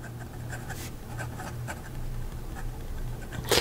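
A fountain pen nib, being tested writing on its reverse side, scratches softly across paper in short strokes with brief pauses, close and quiet, with a low steady hum underneath.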